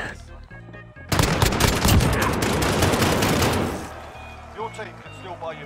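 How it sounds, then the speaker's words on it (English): Rapid burst of shotgun and gunfire in the Warzone video game, loud and dense for about three seconds before fading, with players talking over the action. "Even if I know it's a shotgun, but just shoot at long range."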